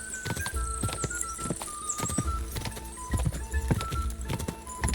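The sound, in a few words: horse hooves galloping in video game Kingdom Come: Deliverance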